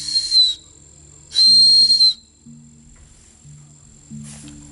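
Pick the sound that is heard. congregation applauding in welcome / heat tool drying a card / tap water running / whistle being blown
whistle being blown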